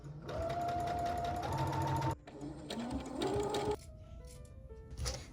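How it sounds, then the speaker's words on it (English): A sewing machine stitches dress straps in several quick bursts of rapid whirring, separated by short pauses. The stitching is close and clear, and no one speaks. "So I just finished sewing the straps."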